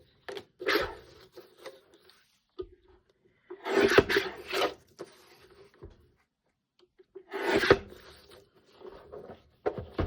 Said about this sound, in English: I just want to trim it up just a tiny bit more